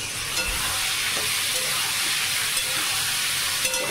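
Pointed gourd and potato curry fries in oil with spices, giving a steady close sizzle with faint crackles throughout.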